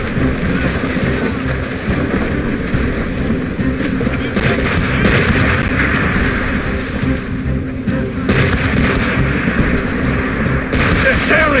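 Ship cannons booming in a naval battle in Assassin's Creed Rogue, dense and continuous, with repeated heavy blasts layered over the roar of combat and voices shouting.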